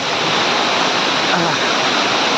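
A village waterfall gives a loud, steady, unbroken rush of falling water, heard close up, with a faint voice in the background.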